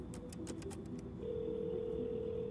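A telephone handset is picked up and dialed: a quick run of short key beeps, then a steady dial tone hums on alone, faint and close, with no talking.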